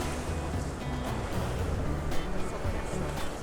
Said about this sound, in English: windy as evidenced by the waves crashing up here right along the path